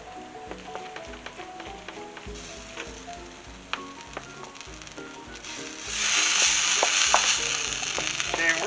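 Flour stirred into melted butter, sugar and water in a hot pan off the burner, with repeated rhythmic scraping and knocking strokes over a soft sizzle that swells into a louder hissing fry toward the end.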